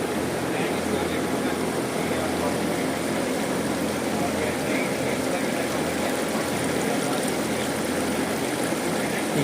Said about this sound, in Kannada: ಈಗ ಜಸ್ಟ್ ಮೋಟ್ರ್ ಆನ್ ಮಾಡಿದ್ದಾರೆ. ಸೊ ನೀರು ಕೆಳಗಡೆ ಹೋಗುತ್ತೆ,